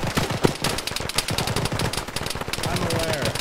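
Rapid automatic gunfire from a military video game, a steady stream of loud shots with distant crackle running throughout, a voice briefly audible underneath.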